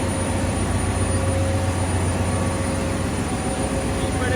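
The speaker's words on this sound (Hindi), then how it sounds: "एक पीछे आवाज़ आ रही है, जनरेटर की आवाज़ है।" Large ship's generators running in an engine room at sea, a loud, steady, unbroken mechanical roar with a deep low hum and a few faint tonal whines, constant throughout with no pauses.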